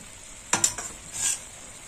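A spoon briefly stirs a spiced mocha (banana flower) mixture in a pan as boiled moong dal is added, with two or three quick scraping knocks and a soft, short sizzle over a faint background hiss.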